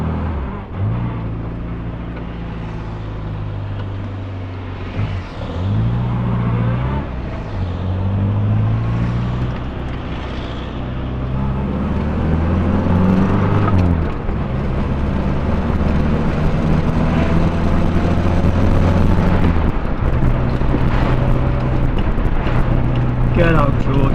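A Morris Minor car rolls along with its brake released, a steady low hum of tyres and body rattle with wind buffeting on the microphone, growing a little louder as it gathers pace.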